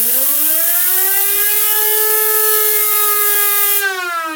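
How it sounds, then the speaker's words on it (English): A Lego bladeless turbine with a PLA rotor, driven by compressed air, spins at high speed, giving a loud, continuous, siren-like whine that climbs and holds its pitch, then wavers near the end, with no talk. "let's speed test these starting with our standard PLA rotor"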